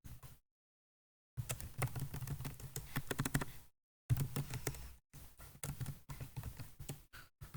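Computer keyboard typing for a database table entry, quick irregular key clicks in bursts separated by short silent gaps, faint and close.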